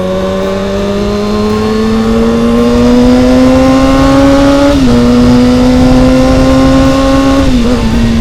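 A Kawasaki 636 motorcycle fitted with a JTEK exhaust revs loud and close, its deep, round note climbing steadily, dipping briefly, then holding high again, with no talking.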